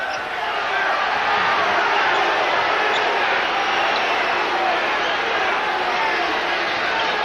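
A basketball arena crowd at a 1984 Louisville versus VCU college game produces a loud, sustained, even roar of booing that fills the whole stretch with no clear breaks.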